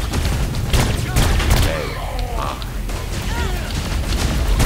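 Rapid gunfire in the video game Saints Row IV, with dense, overlapping bursts and booms throughout, loud and continuous, mixed with a voice and game sounds.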